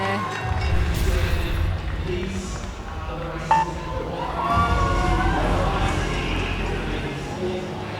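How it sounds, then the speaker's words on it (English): Team cheering at a swimming race between sprint heats: a steady, dense crowd roar with raised voices and shouts fills the pool hall throughout, loud and continuous. "The team's cheering there."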